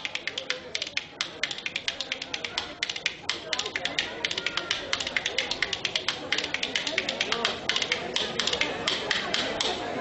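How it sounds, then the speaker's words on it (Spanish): Wooden spoons played as percussion at a traditional Aragonese market with dulzaina players, a fast, steady stream of sharp clicking strikes forming rolling rhythms, close and loud throughout. "Ahí tenéis, cucharas de madera."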